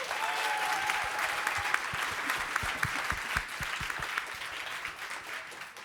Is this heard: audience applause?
yes